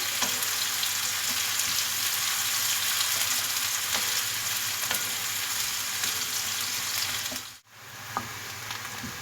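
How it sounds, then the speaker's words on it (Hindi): Onions fry lightly in a pan with a dense, even crackling sizzle throughout, close and steady, with a brief drop near the end before the hiss resumes. "प्याज को भी जो है बहुत ज़्यादा हमने डार्क ब्राउन नहीं करना, हल्का सा फ्राई करेंगे"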